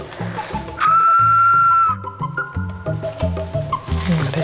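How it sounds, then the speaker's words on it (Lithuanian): A Lithuanian traditional folk whistle plays a bright, ringing sustained high tone, then a series of short stepped notes, loud and close with no voices. "Švilpyniai būdingas ryškus, skambus garsas."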